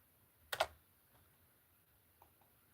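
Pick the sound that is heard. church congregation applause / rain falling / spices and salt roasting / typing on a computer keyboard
typing on a computer keyboard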